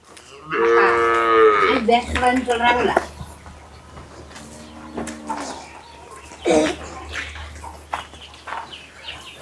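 Kangeyam cattle and calves moo close by: one long, loud, wavering call, then a softer, shorter moo, and a few brief lowing sounds as they fade.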